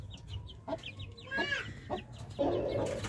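A bantam rooster calls close by in a farm poultry setting, with clucking and bird chatter around it. A short crow-like call rises near the end, and no one talks.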